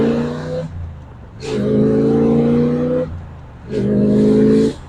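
A 1968 Corvette with a 327ci 300hp V8 and 4-speed manual drives through a residential street, its engine note rising under throttle, dropping briefly at each gear change, then pulling again, loud and close.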